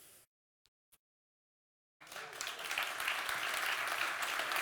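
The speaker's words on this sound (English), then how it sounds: "A big round of applause." Audience applause after a keynote on OrCam wearable devices starts suddenly following a couple of seconds of near silence, then holds as a dense, steady wash of clapping through to the end.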